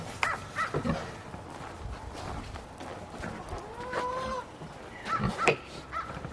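A backyard chicken clucks and squawks while being caught, short agitated calls amid rustling, footsteps and scuffling, fairly close, with a brief drawn-out squawk midway.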